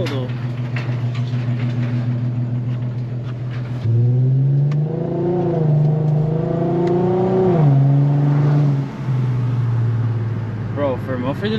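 A boosted Nissan 350z idles with a deep, steady low rumble, rising briefly in pitch mid-way as the revs lift, then settling back to idle; a person talks over it.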